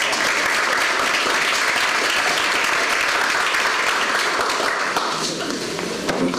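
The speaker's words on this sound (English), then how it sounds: "let's give him a round of applause" A roomful of people at a barn event applauds, dense, even clapping sustained for several seconds before tapering slightly at the end.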